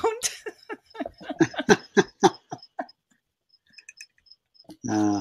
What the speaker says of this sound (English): Bill, are those crickets that we're hearing?